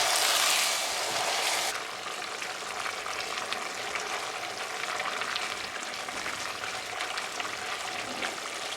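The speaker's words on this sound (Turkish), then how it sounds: "Böyle suyunu çektiği zaman birer kepçe su ekleyerek pişireceğim." Risotto rice simmering in chicken stock in a pan, a soft steady sizzle and bubbling after a brief louder splash of liquid at the start, close and fairly quiet with no talking.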